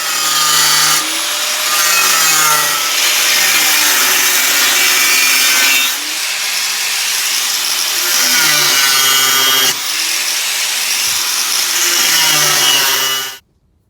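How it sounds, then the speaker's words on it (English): An angle grinder's cutoff disc cuts a channel into the steel body of a foundry furnace, screaming loudly and steadily for about thirteen seconds, its pitch dipping and rising as the disc bites. "we're just going to go through with a cutoff disc and get that channel cut out"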